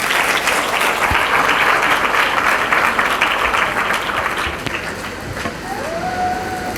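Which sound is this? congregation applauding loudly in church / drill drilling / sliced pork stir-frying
congregation applauding loudly in church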